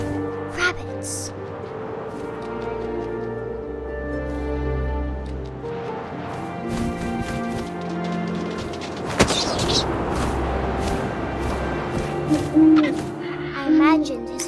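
An owl hoots in the video game What Remains of Edith Finch, layered with wind, rumbling booms and music in a dense, loud mix.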